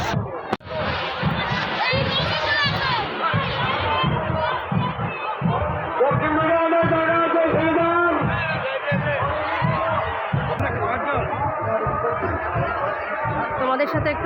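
A dense crowd fills a village fair, with many voices chattering and overlapping into a continuous, close babble and occasional laughter standing out from the hubbub.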